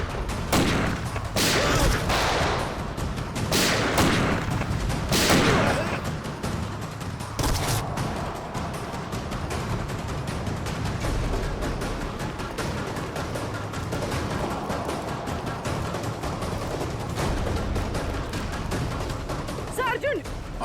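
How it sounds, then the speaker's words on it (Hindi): A shootout in a TV crime drama: several loud gun bursts crack in the first seconds, then the firing thins out under ongoing voices and background noise. "तो गोलियां चल रही हैं।"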